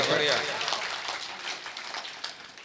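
A kavi sammelan audience in India claps after a Hindi nazm recital, a dense, steady patter of many hands that fades slowly across the moment, with a voice speaking over it at the start.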